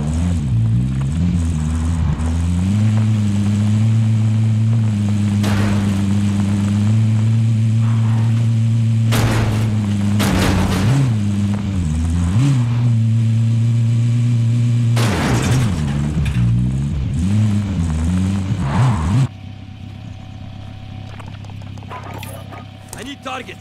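A video game vehicle engine drones at a steady pitch with a few revving swells. Loud game sounds and voices run over it before it cuts to a quieter hum.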